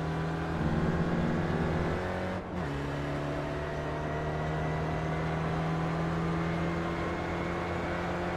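Engine of an SRF race car in the iRacing simulator at Mid-Ohio, droning loud and steady, with a brief dip around a gear change before it settles into a sustained pull at full power.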